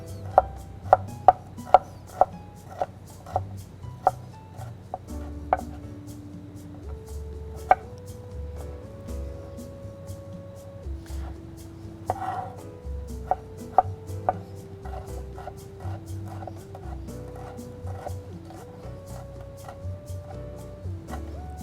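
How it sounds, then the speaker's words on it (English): A knife slices and chops on a cutting board in crisp, fairly regular close taps that cluster early and thin out later, over soft background music. "I'm gonna cut those ends off here. I'm just gonna give it a thin slice."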